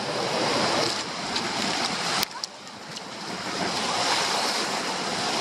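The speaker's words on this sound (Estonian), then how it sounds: "hullumeelsed lained." Heavy surf pounding against ice-covered rocks, a loud continuous roar of crashing waves with wind, one sharp splash-like burst midway, close and unbroken throughout.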